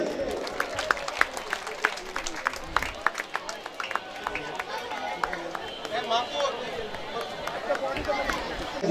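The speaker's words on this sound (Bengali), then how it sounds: "আমরা একটু বিগ হ্যান্ড করতালি দেই।" A ceremony audience at a youth club football tournament final claps steadily, with dense scattered hand claps and crowd murmur mixed with a voice speaking over a loudspeaker throughout.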